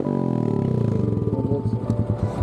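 A Honda Grom motorcycle with a Japanese-made aftermarket exhaust starts up and idles, giving a loud, deep, steady burbling putter close by that loosens into an uneven chug.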